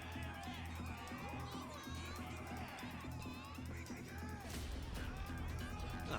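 Dense crowd murmur in Yakuza: Like a Dragon, many overlapping voices chattering in a busy street scene, a constant moderate din with a louder swell near the end.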